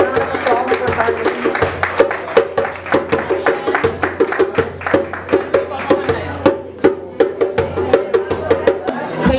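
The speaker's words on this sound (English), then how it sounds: "A round of applause for Carlin." Audience applauding a drummer at a Jamaican Independence Day celebration, a loud steady patter of clapping mixed with crowd chatter and a voice over it.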